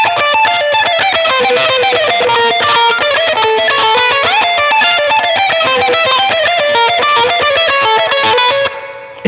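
Distorted electric guitar plays a fast lick of arpeggios on just two strings, dense repeated notes running continuously and loud for about nine seconds before cutting off.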